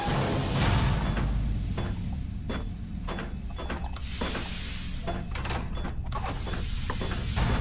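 A heavy mechanical door closing in the horror game SCP: Containment Breach, heard as a continuous grinding, ratcheting slide with repeated clanks over about eight seconds, steady and moderately loud.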